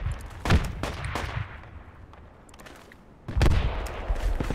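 Grenade blast and gunfire in a squad-based military shooter video game, with two loud broadband bursts standing out against steady crackling battle noise, all without talk.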